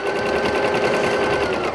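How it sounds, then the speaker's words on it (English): A sewing machine stitches a seam with the fabric guided along the edge of the presser foot, giving a fast, even mechanical whir with a regular pulsing rhythm, close, loud and continuous, with no voices. "I kind of follow a line using the side of my presser foot. So I just sew right along this seam."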